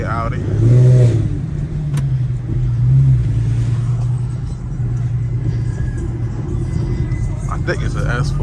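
An Audi S4 at a night street race in Baltimore, heard as a loud low engine rumble that swells into two revving surges, with people talking over it.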